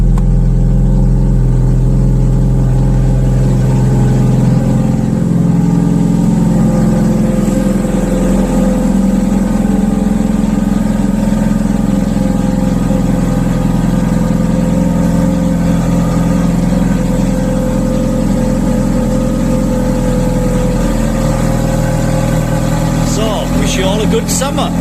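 Ferrari 430 V8 idling after a cold start following winter storage, a steady low, even engine rumble heard close up and continuous, with a slight change in tone near the end.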